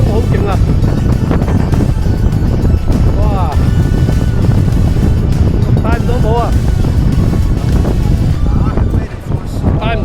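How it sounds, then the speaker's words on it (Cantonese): Strong wind roaring across a hilltop on Dragon's Back, shaking the trees, a steady loud blustering rush with gusts battering the microphone, while people talk and exclaim over it throughout. "哇，啲風好勁啊！"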